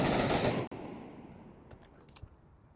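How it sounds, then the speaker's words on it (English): Automatic gunfire in the Pavlov VR shooter during a competitive match, a loud dense burst of rapid shots that cuts off abruptly and leaves a fading tail with a few faint clicks. "to be responded to by automatic gunfire from multiple people simultaneously"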